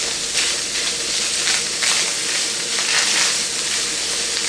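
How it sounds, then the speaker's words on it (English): Diced onions sizzle and fry steadily in a pan on the stove, a constant close, bright crackling hiss with no one talking over it. "we are going to add our diced onions to the mix, to the party. And we're going to stir those onions in."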